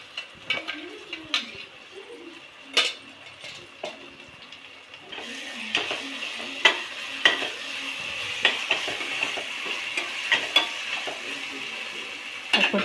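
Tomato and green chili paste frying with golden-brown onions in a Healux cookware pan, a spoon scraping and tapping rhythmically while the sizzle grows louder partway through, close and clear without talk.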